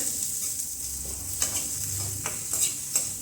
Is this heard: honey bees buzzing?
no